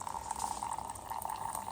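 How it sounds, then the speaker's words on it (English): Hot water at about 80 degrees pours steadily into a cup for brewing Kirkland Signature organic green tea, a continuous close trickling stream with a bright ringing tone and no speech. "you want to pour hot water 80 degrees inside here"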